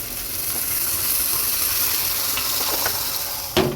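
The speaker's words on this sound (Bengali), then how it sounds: "আর একটা কড়াই বসাই দিছি, এটাতে পরোটা ভেজে নেব।" A frozen paratha fries in a hot wok with a gentle, even sizzle close by, ending in a sharper clatter and burst of hissing near the end.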